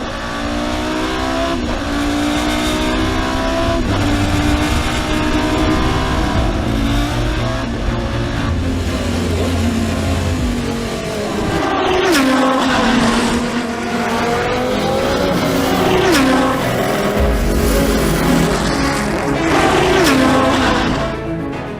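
A Porsche LMP 2000 race car engine screams above 7,000 rpm, rising and falling through gear changes, loud and sustained with a harsh, buzzing roar and no talking.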